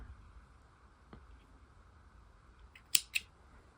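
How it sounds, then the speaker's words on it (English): Scissors snip through yarn while changing colour on a crochet coaster, two quick close cuts near the end after a quiet stretch with a faint earlier click. "you're going to want to cut your yarn"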